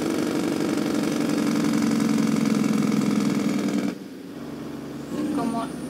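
Truck engine braking in American Truck Simulator: a loud, steady low engine drone runs for about four seconds, drops away sharply, then a quieter engine tone with a faint rising whine follows.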